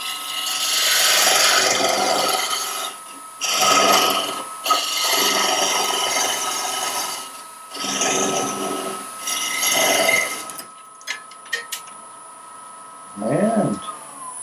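A wooden weed pot (twig pot) is parted off on a woodturning lathe: several loud bursts of scraping, rasping cutting over the spinning hum, then the work stops, leaving a few clicks and a short squeak.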